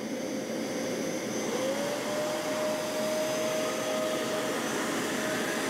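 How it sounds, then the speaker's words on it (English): Two carpet cleaners, a Hoover Power Scrub and a Shark StainStriker, run side by side with a steady, loud motor whine and rushing airflow. A rising tone settles into a sustained pitch partway through, and nobody speaks over it. "let's turn them both on and see how they do"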